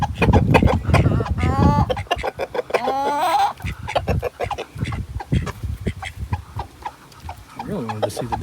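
Chickens and a rooster cluck and squawk close by near water, with ducks and geese mixed in, a busy run of overlapping calls and short bursts.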